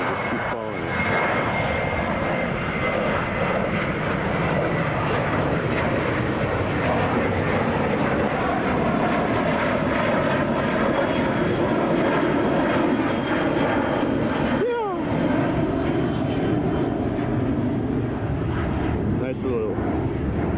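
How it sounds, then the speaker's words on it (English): An Airbus A330 airliner on final approach at Chicago O'Hare, a steady, loud broadband engine roar sustained throughout, with people talking over it. "We got something on final. It's a 330 of some sort"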